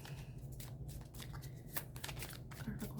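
Tarot cards are shuffled by hand in a quiet indoor reading, giving a steady soft riffling and rustling over about three seconds with a faint low hum underneath.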